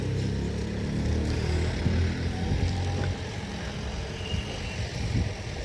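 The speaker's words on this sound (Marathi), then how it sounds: "अजून काही गाड्या येत आहेत बघा दिसली गाडी तुम्हाला ऐकता एक एक एक गाडी आता येत आहेत मार्केटला" Vehicles arriving at the tomato market in Narayangaon, with a steady low engine rumble and road noise close by throughout, swelling slightly as trucks approach, with no talking.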